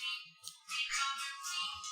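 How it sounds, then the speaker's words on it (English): A phone ringtone plays loudly and continuously, a bright electronic melody with a few short repeating phrases, alone with no voices. "that's Mamo Prey's ringtone"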